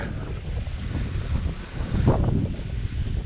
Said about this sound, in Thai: โอ้ยลมมาอีกแล้วหนาวแท้